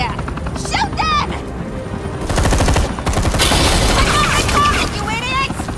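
Bursts of automatic gunfire rattle in Batman: The Enemy Within, loud rapid volleys with booming hits and a helicopter-like drone, while voices shout over the shooting.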